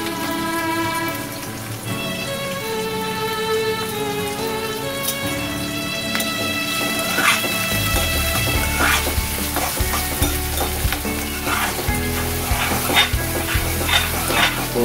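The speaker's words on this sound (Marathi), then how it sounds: "जिरं घेतलंय, राई घेतलंय, व्यवस्थित परतून या सगळ्या गोष्टी घ्यायच्या अगोदर." Cumin and mustard seeds fry in hot oil in a pan, making a dense crackling sizzle dotted with sharp pops and stirring scrapes that grow busier over about fifteen seconds, with faint tonal sounds in the background at first.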